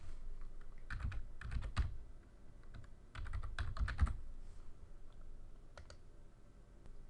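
Close, clear keystrokes on a computer keyboard come in two quick clusters of rapid typing, then a few isolated taps after a pause, with a quiet room behind and no talk.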